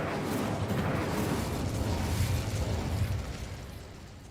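An Incendio fire spell bursts in Hogwarts Legacy, a roaring whoosh of flame with crackling pops that holds steady for a few seconds before easing off, loud and close with no voices.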